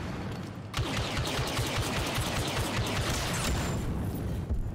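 Turret gunfire in Star Wars Battlefront 2 rattles in a loud, rapid continuous burst after a short quieter lead-in, dense repeated shots filling the rest of the moment.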